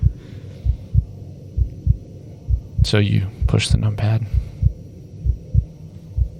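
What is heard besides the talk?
heartbeat sound effect in a podcast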